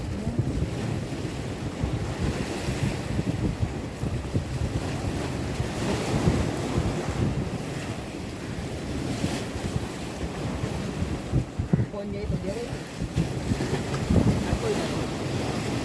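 Sea waves wash on the shore near the Fatkeshwar Mahadev temple at Dwarka, with heavy wind buffeting the microphone, a loud continuous roar of surf and gusts throughout, faint voices occasionally beneath.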